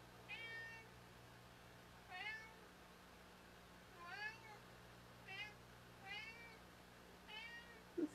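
A cat meows in a workshop, giving about six separate, faint meows spaced a second or two apart over a steady low hum.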